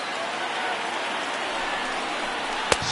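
A stadium crowd of over 39,000 on their feet in the baseball video game MLB The Show 19, heard as a steady, dense roar that holds level throughout, with one sharp click near the end.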